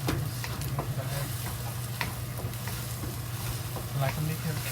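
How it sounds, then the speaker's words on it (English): Egg scrambling in a hot frying pan for a tomato-and-egg dish, a steady sizzle with scattered scraping stirs over a constant low hum. "Kind of like making a scrambled egg."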